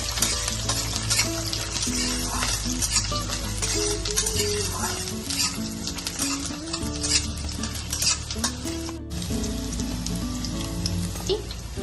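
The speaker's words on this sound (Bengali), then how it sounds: "প্রথমে আদা রসুনটা তেলের মধ্যে দিয়ে দেবো" Ginger and garlic fry in hot oil with a loud, dense, continuous sizzle, while a utensil stirs and scrapes the pan throughout, close up and without speech.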